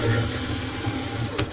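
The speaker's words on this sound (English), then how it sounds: "using my electric screwdriver" An electric screwdriver undoes screws on a Feit Electric 175-watt metal halide lamp fixture, giving a brief, steady, close motor whir that ends with a small click.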